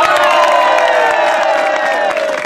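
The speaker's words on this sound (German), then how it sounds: "Bitte, ein Applaus für die neue Schweine" A festival crowd at a Roberto Blanco show in Greimerath cheers loudly with shouts and whoops, a continuous roar of voices with some clapping underneath.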